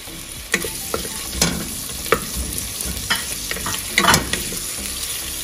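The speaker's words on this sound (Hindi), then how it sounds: "मैंने इसमें हाफ़ कप जो है ना ऑयल डाल दिया है तकरीबन, और अब मैं इसके अंदर डालूंगी प्याज" Sliced onions sizzle and crackle in about half a cup of hot oil, with intermittent stirring scrapes and clinks of a utensil against the pan; no talking.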